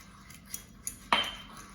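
A utensil stirs a vegan bagel mixture in a bowl, a couple of light taps followed by one sharper scrape or clink against the side, close and quiet.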